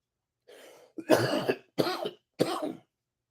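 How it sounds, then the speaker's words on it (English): Three sharp, close coughs follow a brief throat sound, each burst short and separated by pauses in otherwise quiet surroundings. "Y'all see I got a little cough thing going on right now."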